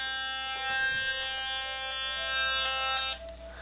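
A Triple Bristle rechargeable electric toothbrush with a base brush and two side brushes runs with a loud, steady high-pitched buzz that cuts off abruptly near the end.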